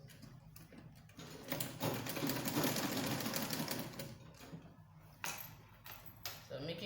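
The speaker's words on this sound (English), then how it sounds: "I will just go ahead with sewing 1 inch in." Sewing machine stitching a jumpsuit sleeve 1 inch in, a fast rattling run of stitches lasting a few seconds, with a short spoken remark over it and brief pauses.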